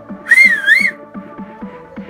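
A single bright, wavering whistle blown through cupped hands rises and falls for about half a second, followed by quiet rhythmic tapping.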